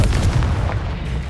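The Confringo spell going off in Hogwarts Legacy as a short, heavy, booming blast that fades into a rumbling tail.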